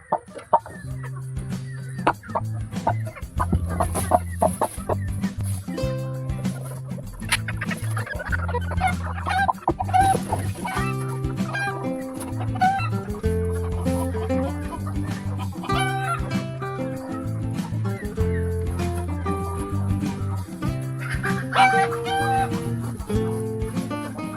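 An Aseel hen clucking close by, repeated low throaty clucks in a steady uneven rhythm over a quiet indoor background.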